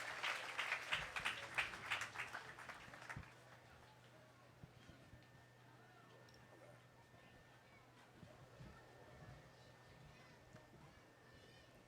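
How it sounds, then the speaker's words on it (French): A church crusade congregation claps loudly for about three seconds before the applause fades, leaving a voice speaking over a low crowd murmur. "Applaudis fortement cet esprit bon Dieu dans la vie, Pasteur Jameson"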